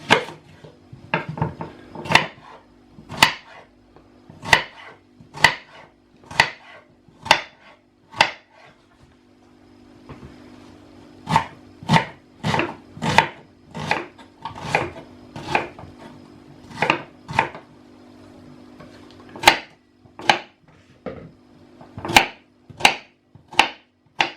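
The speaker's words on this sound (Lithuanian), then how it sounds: "Pirmiausia, imam svogūną. Supjaustom." A knife chops an onion on a board in sharp, loud, evenly spaced strikes, arriving in several bursts with short pauses between them and no voices.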